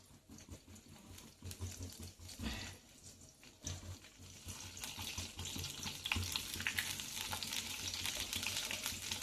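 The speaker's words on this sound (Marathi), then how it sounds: "आता आपलं तेल कढलेलं आहे बघा। आता आपल्या मिरच्या टाकून घ्यायच्या।" Green chillies fry in hot oil in a blackened kadhai over a low flame, a close, crackling sizzle that starts patchy, then builds into a steady spitting hiss, with occasional stirring clatter and no speech.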